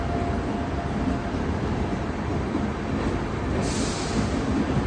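A WAP 7 electric locomotive hauls a train at Thane station, a steady, loud rolling rumble of rail noise with a hiss on top and no voices.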